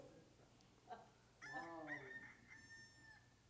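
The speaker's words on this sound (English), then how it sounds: "I downloaded a rooster app" A rooster crows once in a tinny, electronic tone played from a phone app through a small speaker during a church service. Faint background noise comes before the crow.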